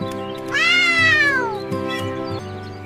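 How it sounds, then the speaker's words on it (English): A cat meows in one long, rising-and-falling call that stretches for about a second, close and clear, followed by quieter shorter vocal sounds. "What sound do you make? I say meow."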